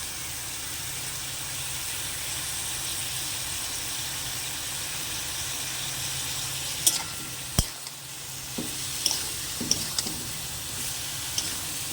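Malabar spinach curry hisses softly in a pan under a steady low sizzle, then a few sharp spoon knocks and scrapes mark the stirring toward the end.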